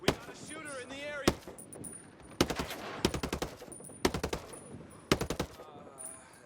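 Assault rifle fire in Ghost Recon Breakpoint, heard as repeated short, crisp bursts of rapid shots at a steady rhythm, loud and near, with someone talking between and under the bursts.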